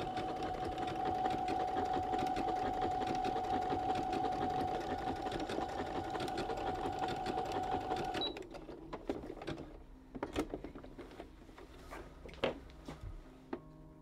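A domestic sewing machine stitching a fabric patch onto trouser legs runs in a steady, close whirring drone for about eight seconds, then stops and gives way to quieter handling clicks and brief bursts as the work is repositioned.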